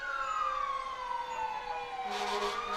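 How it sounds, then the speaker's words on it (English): Fire truck sirens wail from a distance, their pitch sweeping slowly downward, with a second siren rising in over steady traffic rumble downtown near the I-95 overpass. "You hear those sirens, those big red trucks"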